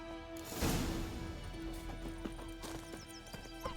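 Horse in The Witcher 3 video game setting off, a sharp whinny followed by clip-clopping hooves at a trot, moderately close against a quiet background.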